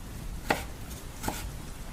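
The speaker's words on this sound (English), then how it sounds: "a chopping sound came from my kitchen" A knife chopping in a kitchen at night: two distinct, sharp, spaced strikes on a board, moderately close, over a quiet low background hum.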